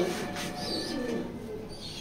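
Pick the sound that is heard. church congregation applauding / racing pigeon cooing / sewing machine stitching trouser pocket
racing pigeon cooing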